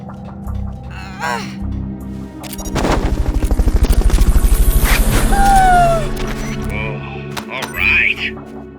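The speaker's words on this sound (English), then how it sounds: "Fulton recovery helicopter is complete." A helicopter's rotor thumps in a steady rapid chop, swelling loud and close before fading, with electronic game-style tones and effects around it; the Fulton recovery helicopter in Metal Gear Solid: Peace Walker.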